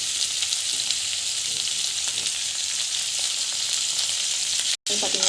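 Chana dal and onion sautéing in a pan, a steady close sizzle and crackle of frying with faint stirring, continuous throughout with a brief break near the end.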